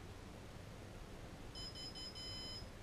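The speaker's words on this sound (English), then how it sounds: "that beeping sound lets you know that it is initialized, it has balanced itself, and it's ready to go" A GoPro handheld gimbal gives a short series of thin electronic beeps once it has initialized and balanced itself, clear but soft over a steady background hiss in the second half.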